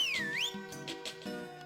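A short whistle from the farming video game Harvest Moon: Magical Melody, a rising and falling tone sounding once over soft looping game music.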